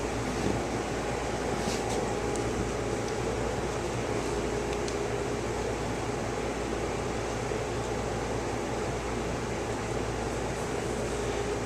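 An electric bike motor on an XP trike runs under power with a constant, even whir and faint mechanical hum, steady and close throughout with no breaks.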